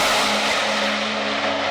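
A car does a burnout, with loud, sustained tire squeal and a steady engine roar close by for under two seconds, and no talk.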